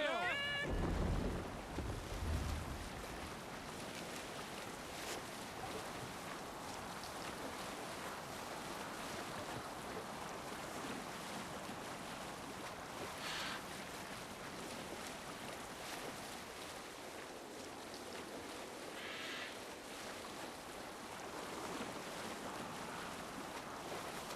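Viking longship under sail at sea in Assassin's Creed Valhalla, with a steady wash of waves and wind roar held for the whole stretch, some brief creaks and splashes, and a few voices at the very start.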